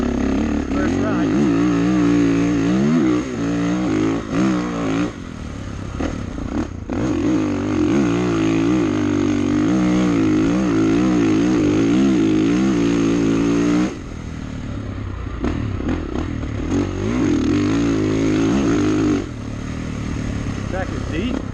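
A 2019 Kawasaki KX450F motocross bike on its first ride, its engine repeatedly revving up and dropping through gears, loud and near, with a brief lull partway through before it pulls hard again.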